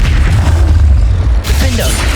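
A Confringo spell blast from the Hogwarts Legacy video game, a loud, deep booming burst that rumbles heavily through the low end and dominates the short moment.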